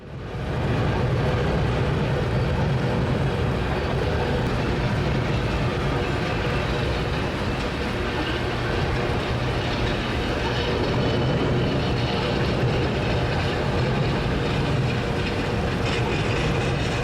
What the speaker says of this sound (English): Here we see some very old 89-foot boxcars.